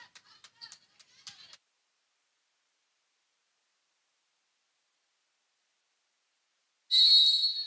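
Referee's whistle at a college volleyball match between Toccoa Falls and Trinity College: after a few faint ticks and a long stretch of silence, one loud, sharp, shrill blast sounds close by near the end.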